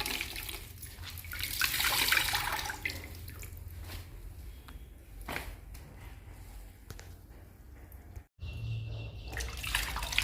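Dirty door mats are being washed in water, with steady sloshing, splashing and dripping close by, a brief pause near the end, then more splashing.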